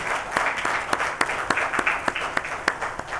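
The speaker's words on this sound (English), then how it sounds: "I heard you clapping, I appreciate it" Scattered audience clapping at a symposium on land reclamation, with separate sharp claps falling in a fairly regular rhythm over a soft background wash.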